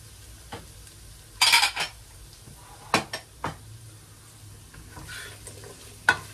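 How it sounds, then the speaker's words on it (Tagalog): Carrots sautéing in a pot for macaroni soup: a burst of sizzle followed by intermittent scrapes and clinks of a utensil against the pot, separated by quiet gaps. "gisa-gisa lang mga 1 to 2 minutes hanggang sa medyo lumambot lang ng konti yung carrots"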